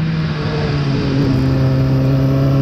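A Suzuki SRAD 1000 R sport motorcycle riding on a race track, its engine a loud, steady high-revving drone with a strong tonal hum, close and continuous without talk.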